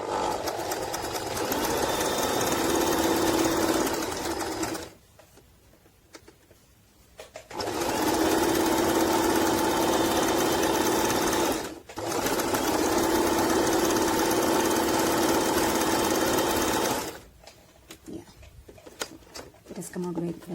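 Singer Talent 3321 sewing machine stitching a decorative pattern at short stitch length: three loud, rapid whirring runs of stitching separated by brief pauses, with a voice speaking in the gaps.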